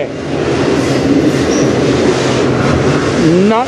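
A long CN freight train with many cars rumbles past on the Strathroy Subdivision near a tunnel, loud and continuous with clattering wheels and a brief squeal near the end, with a voice faintly underneath.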